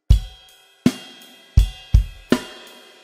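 Drum kit playing the second bar of a chorus beat: five punchy bass drum strikes in an uneven rhythm, each with a ringing ride cymbal wash over it, close and alone.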